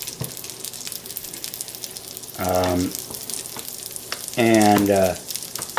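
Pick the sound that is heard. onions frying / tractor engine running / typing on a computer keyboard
onions frying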